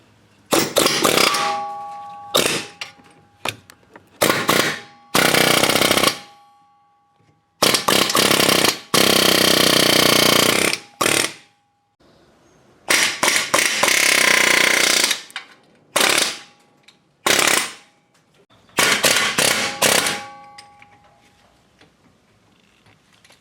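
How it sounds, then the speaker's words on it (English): Loud bursts of pneumatic hammering on metal, a chisel pounding at a Subaru Forester wheel hub backing plate in short and long stretches separated by brief pauses, close and harsh. "So now with this chisel, I'm going to try to go in here and in here."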